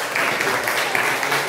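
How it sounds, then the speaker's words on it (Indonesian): Classmates clap for Ali's group in a school class, a short steady burst of applause throughout. "Oke, tepuk tangan untuk kelompok Ali."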